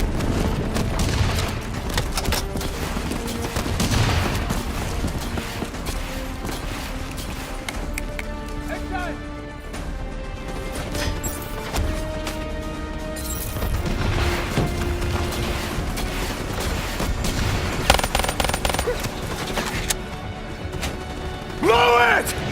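Incoming Javelin missiles and gunfire in the Black Ops 3 campaign: rattling bursts, crashes and booms over a constant battle din, with voices shouting throughout.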